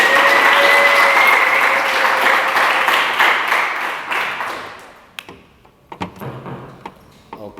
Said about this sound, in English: Big round of applause for all the speakers from the first part.